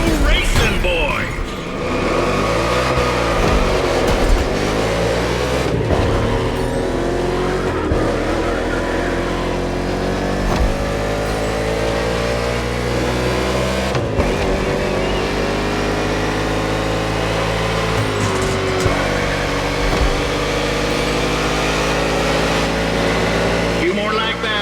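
NASCAR stock cars race in The Crew Motorfest, engines roaring loud and steady throughout, with pitch rising and falling through gear changes and corners, layered with other cars close by.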